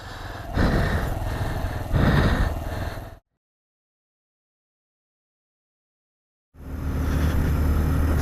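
Engine of a Sinnis Scrambler motorcycle ridden through snow, a steady loud drone with two throttle surges, then a long silent gap before the engine returns just as loud.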